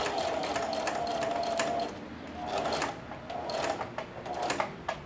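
A sewing machine stitching a thick denim seam on an apron, running in bursts with a rapid whirring buzz that stops and restarts, with brief pauses and soft mechanical clicks between runs.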